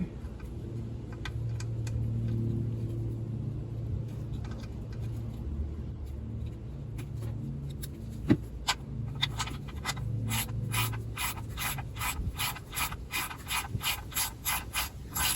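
A ratchet tightens the oil pan drain bolt on a BMW E36, giving a run of quick, close mechanical clicks in the second half after some rubbing and handling noise, with no talking.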